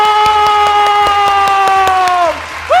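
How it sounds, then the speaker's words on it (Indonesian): Children at a Sunday school service clap in a steady, rapid rhythm while their shouting voices carry over the claps. The clapping is close and loud, and the voices dip briefly near the end before rising again. "semua tepuk tangan sambil kita teriak"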